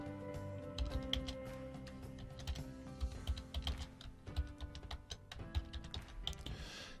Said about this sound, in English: I just typed in all about WordPress.